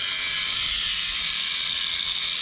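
A ratchet works loose the four 11mm drive shaft bolts on a Duramax pickup during a six-inch lift kit install, giving a steady, close, rapid clicking that fills the whole moment without speech.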